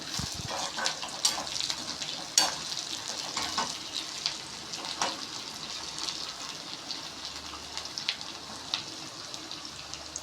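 Cashew nuts frying in oil in a pan for Tamil rava upma, a steady close sizzle with scattered sharp crackles and stirring clicks, no talk.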